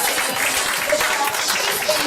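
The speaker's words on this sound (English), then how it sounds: "a big round of applause to Miss China Roxanne Gonzalez" Audience applause welcoming a speaker to the stage at an entrepreneurship summit conference at Manila Central University, a steady dense wash of clapping with some crowd murmur mixed in, lasting throughout.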